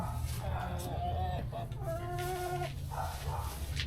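Backyard chickens clucking close by in short, repeated throaty calls over a steady low hum, with people chatting quietly in the background.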